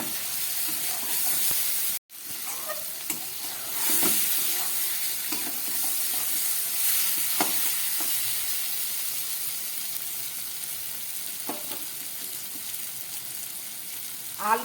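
Fried potatoes and eggplant hit spiced masala in a pan, giving a loud, steady sizzle with soft stirring scrapes and one abrupt cut near the start; no voices.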